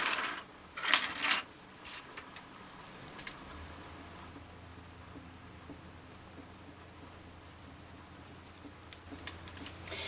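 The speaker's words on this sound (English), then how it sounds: "So let's start with the paler blue." A pale blue colored pencil scratches across paper while a stained glass peacock drawing is colored in, heard as a few quick brisk strokes near the start, then faint soft rubbing over a low steady hum, without speech.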